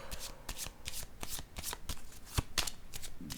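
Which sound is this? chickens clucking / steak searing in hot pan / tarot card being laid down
tarot card being laid down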